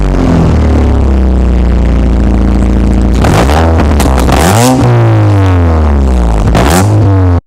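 A car's loud, raspy exhaust drones at idle with a buzzy, trimmer-like tone, then gets several sharp revs that sweep up and fall back, very close and alone.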